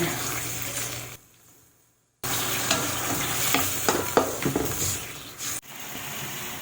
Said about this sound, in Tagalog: Mag-add ako ng water